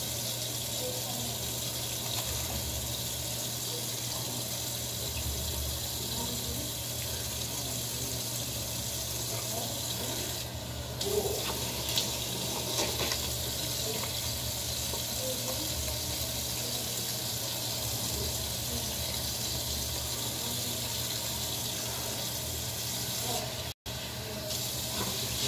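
Tap water runs in a steady, continuous hiss while a face is washed with a small amount of foaming cleanser, loud and close, with faint splashing and a brief cutoff near the end.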